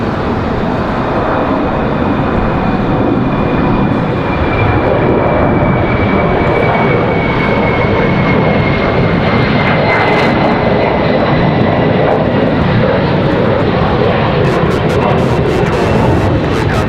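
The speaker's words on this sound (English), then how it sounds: "that A220 off to Boston" An Airbus A220 jet takes off from Raleigh-Durham airport at night. A loud, continuous engine roar fills the whole stretch and holds steady, with a faint high whine running through it.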